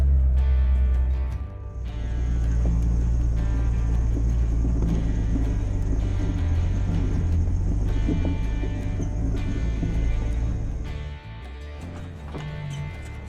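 An off-road vehicle in four-wheel drive climbs a trail toward the Green River in Utah, its engine a steady loud low rumble with bumps and clatter of the rough terrain, holding strong throughout before easing near the end.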